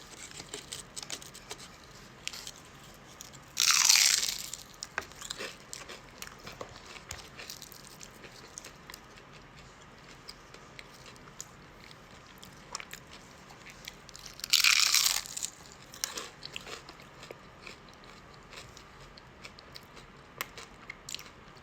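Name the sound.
eating crunchy crab rangoons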